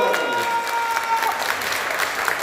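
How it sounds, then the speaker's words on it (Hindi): Audience at a Hindi poetry recital applauding, a sustained round of dense clapping from a crowd, fairly loud and filling the whole stretch. "सारे लोग ताली बजाएंगे, जोरदार ताली।"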